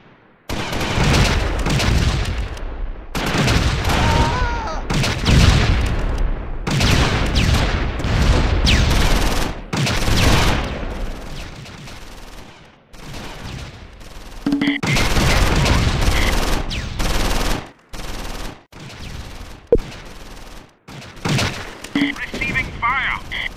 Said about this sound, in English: Receiving fire.